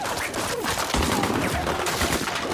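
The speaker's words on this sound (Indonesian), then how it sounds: "dia disambut oleh tembakan dari Wu Heising dan para anak buahnya." Rapid bursts of gunfire crackle over a noisy, chaotic background, with sharp overlapping shots and no clear speech.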